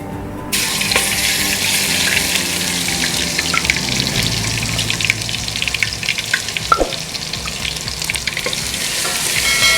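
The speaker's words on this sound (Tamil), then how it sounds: "இஞ்சி பூண்டு பேஸ்ட் போட போகிறோம்." Ginger garlic paste dropped into hot oil in a pan gives a loud, steady crackling sizzle that starts abruptly and carries on without a break, with faint scraping and stirring clicks on top and no voices.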